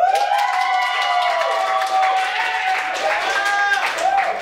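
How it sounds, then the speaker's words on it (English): Audience at an improv comedy show applauding and cheering to vote for a scene, steady crowd noise with whoops and shouting layered over the clapping throughout. "So applaud now if you'd like to see the origin story of El Coyote."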